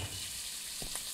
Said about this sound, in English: stuff frying on the stove here, and no, there's nobody attending to it.